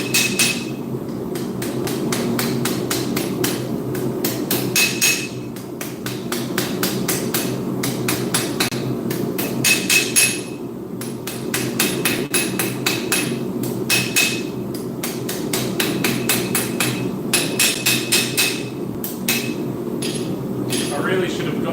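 Steady rhythmic hammer blows ring on hot steel as an old spanner is forged into a karambit, close and sharp, coming in quick groups with brief pauses over a low background hum.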